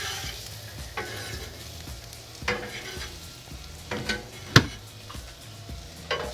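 French fries sizzle on a Blackstone griddle in a steady frying hiss, broken by repeated scraping and clinking of a metal spatula stirring them, including one sharp clack.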